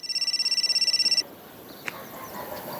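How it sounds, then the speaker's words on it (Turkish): A phone rings with a rapid trilling electronic tone for about a second, then cuts off, leaving quiet room sound with a faint click. "telefonun çalıyor la açsana"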